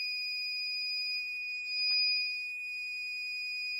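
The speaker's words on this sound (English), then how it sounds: "And we have a really loud, annoying alarm." Pytes V5 heated 48V server rack battery setup sounding a loud, piercing, continuous high-pitched alarm tone, steady and unbroken from start to finish with faint handling noise in the background.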